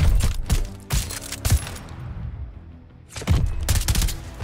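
Gunfire rattles in Call of Duty Vanguard: rapid bursts of shots, then a brief lull, then more quick volleys, loud and punchy.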